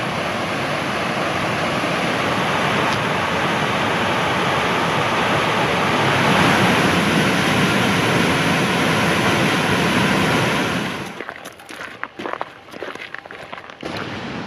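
Low Force waterfall on the River Tees along the Pennine Way roars as a loud, steady broadband rush for about eleven seconds, then drops away into scattered handling bumps and rustles.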